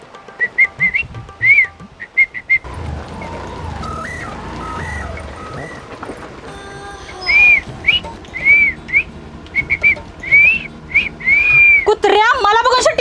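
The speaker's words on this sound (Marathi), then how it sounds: "तोंडाचं मारतो शिट्टी" Someone whistles with the mouth in short, repeated warbling phrases, some rising and falling, close and clear, interspersed with talking and other background activity.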